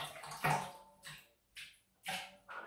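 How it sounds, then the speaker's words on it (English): A shaving brush is wetted under water for a traditional wet shave with a King C Gillette safety razor, giving a few short splashing, trickling bursts separated by pauses, close and moderately loud with no talk. "Just going to wet the brush"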